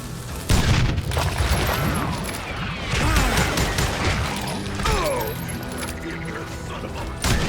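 Shots and blasts fill a Wild West shooter, Call of Juarez Gunslinger, forming a dense, continuous racket of gunfire, booms and clattering debris that keeps going the whole time, with game voices shouting over it.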